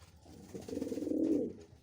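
A male Gasulli breed pigeon gives a soft, close, low cooing call lasting about a second, alone without talk.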